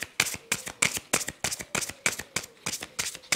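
Playing cards being shuffled for a card reading, a rapid series of crisp riffles and slaps in an even rhythm, close and clear with no talk.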